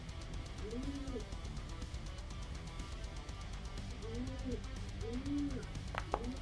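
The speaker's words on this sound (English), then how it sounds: "Those ghosts sounds a lot like a pigeon" Ghostly sound effect in a tabletop-style game session that resembles pigeon cooing: soft repeated coos in short clusters over steady background murmur, with a brief sharp click near the end.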